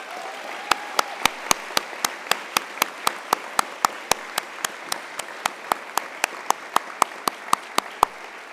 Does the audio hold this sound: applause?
yes